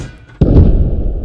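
In the video game Squad, an Abrams tank cannon round strikes an enemy tank, a single sharp, loud booming impact followed by a heavy rumbling decay.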